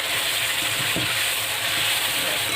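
Pieces of chicken sauté in a pan after a splash of water, giving off a loud, steady sizzle and hiss with a few soft stirring knocks, close by and without talk.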